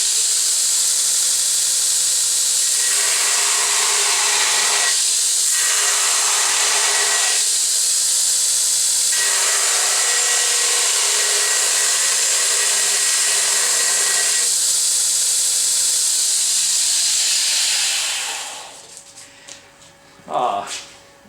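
A DSM grinder set to 2700 runs with a loud, steady high-pitched whirring hiss whose tone shifts slightly now and then, before it winds down near the end with a few clunks.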